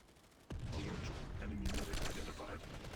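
A low-recoil gun fires in a video game as a sudden, sustained burst of shooting that starts after a brief quiet moment and continues to the end, loud and close.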